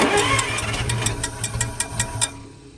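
A 1939 International fire truck engine cranks and catches, running roughly with uneven knocking pulses and a low mid-pitched rumble, loud and close, fading near the end.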